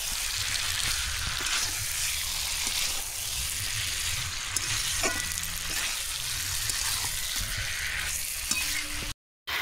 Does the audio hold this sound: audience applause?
no